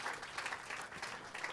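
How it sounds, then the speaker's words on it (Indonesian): Congregation at a church service clapping for Jesus, a dense, steady wash of applause from a gathered crowd that holds evenly through the brief moment. "Ayo kita beri tepuk tangan untuk Tuhan Yesus."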